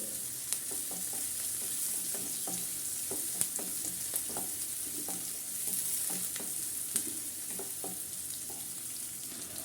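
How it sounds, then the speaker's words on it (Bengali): Onions fry and are stirred in a pan for a Bengali beef curry, a steady sizzle broken by regular scraping clicks of the spoon, close and alone without talk. "পেঁয়াজগুলো ভালো করে নাড়াচাড়া করে নিব"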